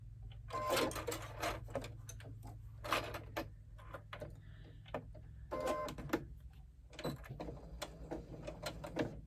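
A sewing machine stitches a seam on a bag, running in short bursts of fast mechanical whirring and ticking with brief pauses between, fairly faint and close.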